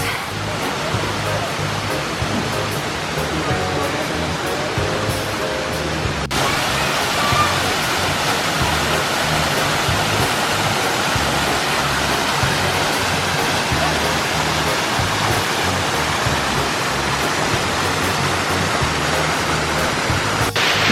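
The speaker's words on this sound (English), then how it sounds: "There hasn't been this much water at this waterfall in years, I think." Nojoqui Falls running heavy after several days of rain, a loud, continuous broadband roar of falling water close by that stays steady throughout, with a faint voice briefly in the first few seconds.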